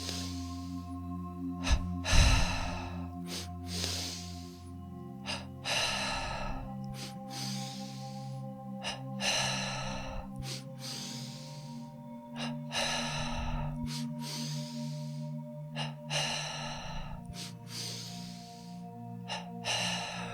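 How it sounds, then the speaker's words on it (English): Rhythmic yoga double breathing, each breath drawn from belly to chest, a series of full, forceful inhales and exhales repeating at a steady pace, close and clear, with a sustained low drone beneath. "Double breathing, this time 10 breaths, belly to chest."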